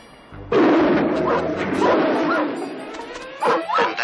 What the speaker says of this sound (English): Dog, go away.